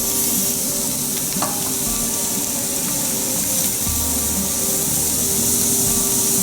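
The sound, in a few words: shrimp frying in oil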